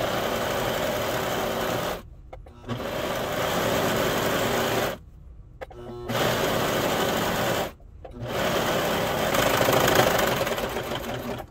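Sewing machine finishing the edge of pajama shirt fabric, running in three long steady bursts separated by short pauses, close and continuous.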